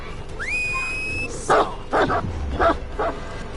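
A dog in a survival video game gives four sharp, loud barks in quick succession right after a rising whistle-like tone, with no talk over it.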